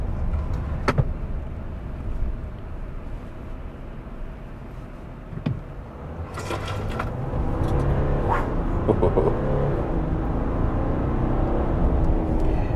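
2021 Ram 1500 Limited EcoDiesel pickup launching and accelerating: a muted, steady engine drone heard from inside the cab that swells and holds louder partway through, with a few clicks and knocks.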